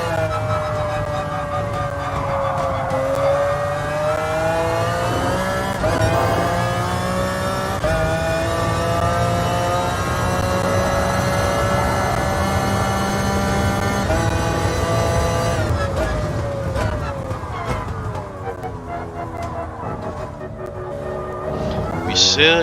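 A '96 McLaren F1 GTR racing engine in the GT Sport video game wails loudly through climbing and falling revs and gear changes as it laps a circuit, steady and continuous with brief downshifts.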